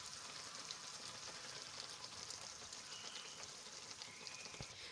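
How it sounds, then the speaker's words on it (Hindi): Semolina malpua frying in oil until golden brown, a soft, even crackling sizzle that stays faint and continuous throughout, with no voices. "इसको अच्छे से डार्क गोल्डन ब्राउन होने तक फ्राई करेंगे"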